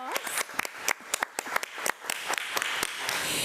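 Scattered applause at a committee meeting honoring a kindergarten teacher, a handful of distinct nearby claps with irregular rhythm rather than a dense crowd, filling the short stretch.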